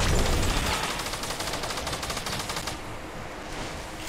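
Rapid automatic gunfire in the Fortnite video game during a tournament match, a fast, even stream of close shots that runs for a few seconds and then thins out at the end.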